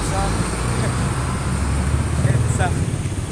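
Road traffic rolling through a town street in Catbalogan, Samar, a steady low engine rumble and tyre hum from passing cars, buses and motorcycles, continuous and fairly loud throughout.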